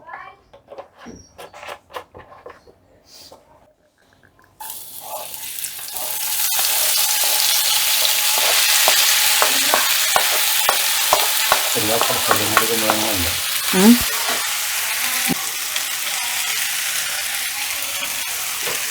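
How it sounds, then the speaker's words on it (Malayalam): After a few quiet clicks, a loud, steady sizzle of ivy gourd sautéing in coconut oil begins and continues, with occasional stirring scrapes. "ഒരു ഇത്തിരി വെളിച്ചെണ്ണയും കൂടി ഒഴിച്ചിട്ട് കോവക്കയും കൂടി നമ്മൾ ഇതേപോലെ തന്നെ വാട്ടിയെടുക്കുകയാണ്"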